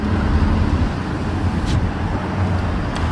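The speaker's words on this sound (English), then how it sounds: "Alright guys, going for a drive." Kia Soul driving on the road after a 50k service, with steady engine and road noise heard from inside the cabin and a few faint clicks.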